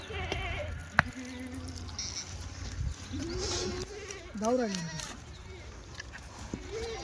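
Kathiawadi goats bleat a few times at a moderate distance amid a noisy goat market crowd with people talking in the background.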